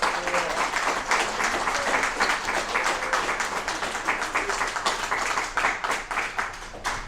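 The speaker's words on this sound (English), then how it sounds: "if we could give one more round of applause to these young people for sharing their voices with us" An audience at a youth poet laureate commencement ceremony in Monterey County gives a round of applause to young poets, with sustained, fairly dense clapping that continues evenly and thins a little toward the end.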